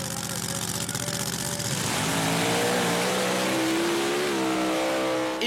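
An Emirati team's homemade dune racing machine idles with a rough, loud rumble, then revs up hard and holds a rising, sustained roar close by.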